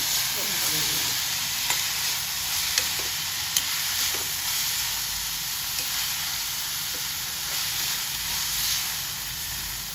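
Chopped banana flower stir-frying with onion and garlic in a pan, a continuous bright sizzle and hiss with occasional stirring clicks throughout and no one talking.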